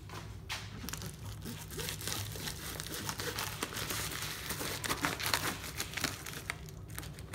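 Close crinkling and rustling of plastic packaging with snips and tearing sounds as it is cut open, continuous and busy, no talking.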